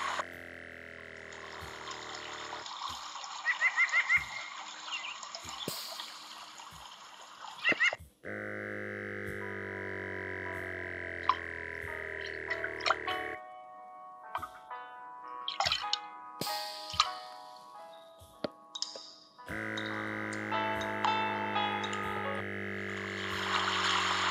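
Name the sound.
SKG eye massager playing a relaxing water-like tune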